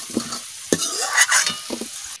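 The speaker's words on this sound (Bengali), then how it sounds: "কপি আমি ভাজা করে নিচ্ছি" Cauliflower frying in a pan, a steady hiss of oil broken by a few stirring scrapes and clinks, close and moderately loud.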